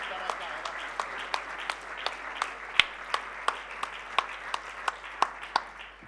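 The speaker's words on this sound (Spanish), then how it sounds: "¿Qué les parece si nos damos un aplauso a nosotros mismos que estamos acá?" A church congregation claps for themselves during a Spanish-language service. Distinct claps land in an even, steady rhythm, faint and somewhat distant, over a low background hum.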